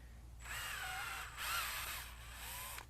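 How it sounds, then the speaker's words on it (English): Power drill running in reverse to back a Phillips head screw out of a black cap on VertiMax V-series training equipment, three whirring bursts with a wavering motor pitch, close and alone. "make sure you have the drill set in reverse. You're going to stick the drill in the Phillips head, hold the black cap tightly"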